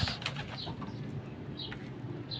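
Domestic pigeons of the blue bar color type coo softly amid a steady low ambient hum, with a few faint chirps and rustles and no talking.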